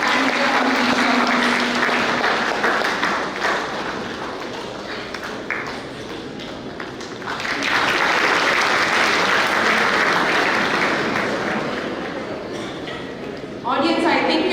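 An audience at a cultural programme for the Feast of St. Joseph Vaz in Doha, Qatar, claps in a sustained, even patter that swells and eases, with voices heard over it in places.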